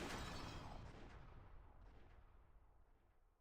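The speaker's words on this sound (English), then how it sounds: "The sound of gunfire rang out," Gunshot sound effect from the Umineko When They Cry visual novel: a single loud blast at the start whose broadband roar decays into a long fading reverberant tail, with no voices.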